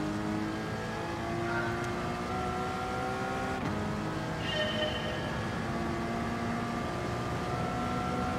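Race car engine in the Gran Turismo video game revving at high pitch and holding steady, loud and continuous throughout, with the pitch shifting slightly as gears change.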